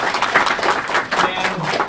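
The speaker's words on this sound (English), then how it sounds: "Give her a big round of applause" Applause at an engineering education awards ceremony, a crowd clapping in an uneven, lively patter with some voices mixed in beneath.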